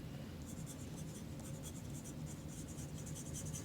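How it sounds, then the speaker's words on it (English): A pencil scratches across paper while writing a name, a quiet close stream of short scraping strokes in quick irregular rhythm, heard alone against a low background hum. "I'm gonna write my name on it."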